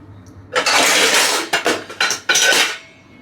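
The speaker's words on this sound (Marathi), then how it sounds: "हा कुकर घेते, ह्याच्यामध्ये होऊन जाईल." A metal pressure cooker is handled in a home kitchen before cooking mutton, with several loud, close clattering clanks and scrapes in quick bursts and no talking.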